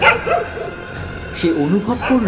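A wild dog barks in a horror story, a few yipping barks and whimpers mixed with a narrating voice.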